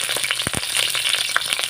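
Garlic and onion frying in hot oil in a pan, a steady close crackling sizzle with a few louder pops and stirring scrapes throughout.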